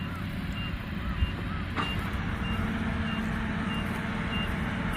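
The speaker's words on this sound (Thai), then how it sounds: "นั้นรถขนครับผม" A transport truck working at a rice harvest beside a Kubota WR90 combine gives off a regular series of high reversing beeps over a constant low engine drone, moderately distant and steady throughout.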